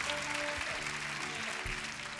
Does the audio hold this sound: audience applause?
yes